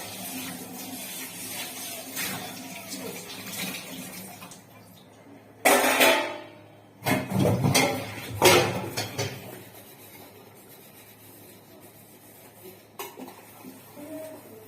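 Dishes being scrubbed and washed at a home kitchen sink: scattered clinks and clatters of pots and utensils, with a cluster of louder bangs and scrapes in the middle against a quiet background.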